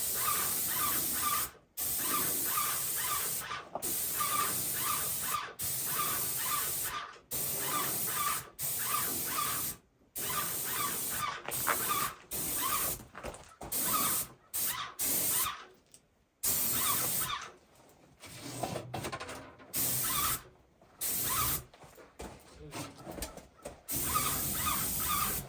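Paint sprayer laying a final clear coat on a log home, a loud steady hiss in repeated bursts broken by short pauses as the trigger is released, close by with no talk.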